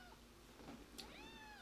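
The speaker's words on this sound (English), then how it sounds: "my cat wants to leave the room because he's meowing now" A house cat meowing to be let out of a room, a faint, drawn-out rising and falling meow followed by a second, softer one, heard indoors with no talk over it.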